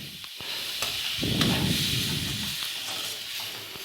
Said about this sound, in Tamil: வதங்கினதுக்கப்புறம் நம்ம வேக வச்ச அந்த சேமியாவை அதில் போட்டு மிக்ஸ் பண்ணிடணும்